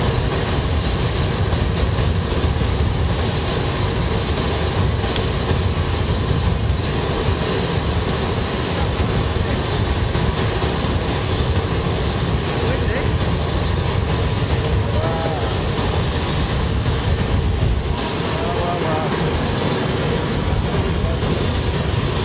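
Aircraft engines roar loudly and continuously after a landing on polar ice near the North Pole, a steady broad drone with no voices heard.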